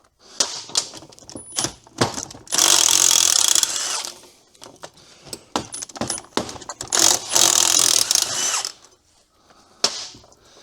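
A ratchet and power tool undoing 12 mm brake mounting bolts on a Chevrolet Cavalier after a figure 8 race, with two long loud buzzing bursts and scattered sharp clicks and clanks between them, close up.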